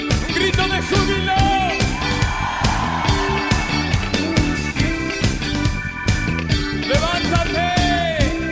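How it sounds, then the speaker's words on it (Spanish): A church congregation yells and whoops for joy over loud, driving worship music with tambourine and percussion. Rising cries break out through the steady beat. "Un grito de júbilo."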